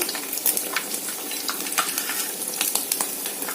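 Coconut sweet mixture being stirred in a pan over a high flame, with steady sizzling and scraping under repeated soft knocks of the spoon against the pan, close and fairly loud throughout.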